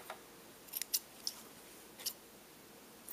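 Several crisp snips of scissors, close and quiet, spaced irregularly in a still room, ending with a quick double snip.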